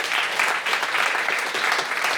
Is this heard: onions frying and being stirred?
no